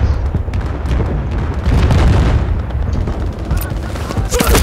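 Dense, loud gunfire and booming blasts from a Medal of Honor multiplayer match, with shots rattling off continuously and overlapping explosions, while a voice talks over the chaos.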